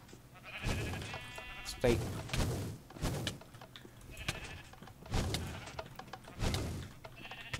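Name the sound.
sheep bleating in Minecraft video game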